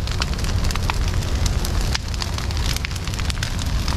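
A smoky fire burns in a smoker, giving a steady, dense rushing roar with scattered crackles and pops throughout, close and loud with no talking.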